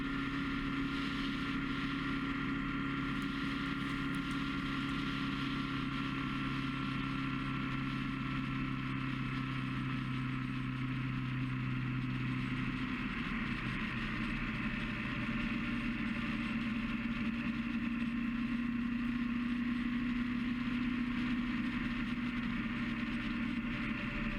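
Triumph Tiger 900 Rally Pro motorcycle ridden on the road, restricted to 7,000 RPM, with a steady engine drone whose pitch shifts partway through, mixed with wind noise and no talking.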